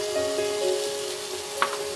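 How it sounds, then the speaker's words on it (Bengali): Spices sautéing with chopped tomato and salt in a pan for Bengali macher matha murighonto, a steady close sizzle with a steady hum and one quick stirring scrape, no voices. "নুন দিয়ে মশলাগুলোকে ভালো করে এবার আমি কষিয়ে নেব।"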